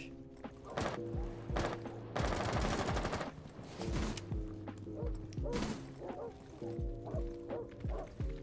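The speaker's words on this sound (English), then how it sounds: "I hear him shooting my teammate right now from garage" Rapid gunfire bursts ring out in Rainbow Six Siege, loud sharp shots and sustained automatic fire from a garage area, with a dense rattling burst near the middle and scattered single shots around it.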